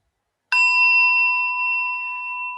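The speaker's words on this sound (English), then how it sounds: "I'll ring the bell and we'll begin." A meditation bell is struck once to open a zazen sitting, giving a clear, close ring with a bright attack and a long, steady sustained tone that slowly fades, heard alone with no talk.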